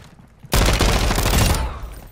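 Dense gunfire rips out in Call of Duty: Modern Warfare, a sudden loud burst of rapid shots lasting about a second before it cuts back to quiet.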